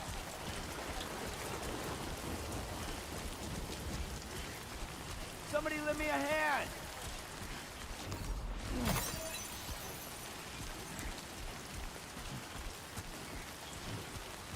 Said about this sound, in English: Wait, is it raining?